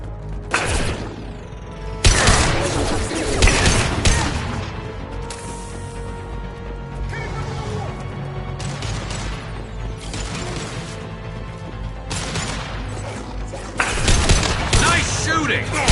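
Bursts of gunfire and crashing impacts in a Mass Effect 2 firefight, loud volleys at intervals over a steady battle background, with voices calling out between shots.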